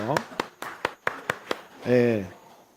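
A church congregation of elderly members claps in a brief series of sharp, distinct claps about one per quarter second, followed by a short spoken voice.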